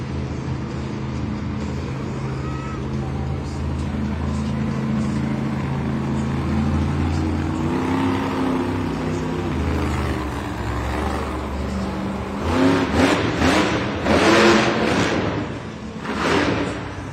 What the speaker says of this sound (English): Continuing on from Team Throttle Monster, it's Devin Whitfield, Velociraptor.